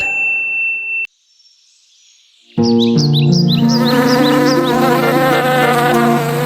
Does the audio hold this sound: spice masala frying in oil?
no